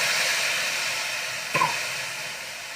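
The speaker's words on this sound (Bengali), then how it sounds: "গোটা জিরা শুকনো লঙ্কা দিয়ে দিলাম এরপরে এই গ্রেভিটা দিয়ে দিলাম" Gravy is poured into hot oil with whole cumin and dried red chillies in a pan. It gives a loud, steady frying hiss with a brief sputtering burst partway through, and there is no talk.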